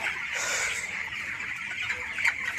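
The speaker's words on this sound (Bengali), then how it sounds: "দেখেন পানির জন্য মুরগিগুলা কেমন করতেছে।" A flock of thirsty three-week-old broiler chickens in a poultry shed clamours constantly at close range, a dense, shrill chorus of clucking and peeping with no speech over it.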